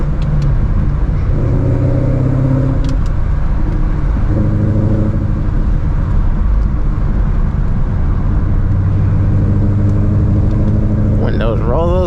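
Ford Mustang driven at night, heard from inside the car as a loud, continuous engine drone and rumble with steady tonal bands shifting as it runs through the gears.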